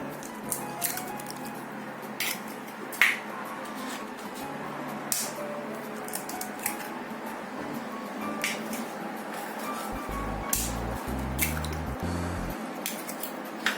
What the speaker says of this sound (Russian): Также мы сейчас добавим сюда 3 яйца.